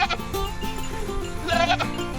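Goats bleat in quick overlapping calls, several wavering cries close by and fairly loud, rising in pitch toward the end.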